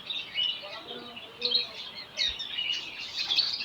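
Birds at a bird market chirp and tweet in short bright bursts, fairly faint and close-mixed, with a voice faintly present beneath.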